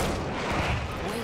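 An enemy artillery barrage pounds away in Battlefield 1 as a dense, continuous rumble of booms and blasts, close and loud for the whole short moment.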